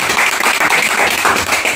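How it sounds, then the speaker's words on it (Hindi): A small group claps in a brief, dense burst of applause lasting under two seconds. "चलो ताली"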